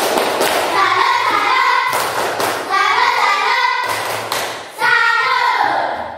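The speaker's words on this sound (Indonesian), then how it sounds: "Tepuk salut untuk Rizky. Tepuk salut." Primary school class doing a rhythmic patterned cheer clap in bursts, loud close thumping claps repeated in three grouped rounds with brief pauses between, children's voices faintly mixed in.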